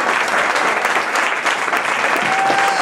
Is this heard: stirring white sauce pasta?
no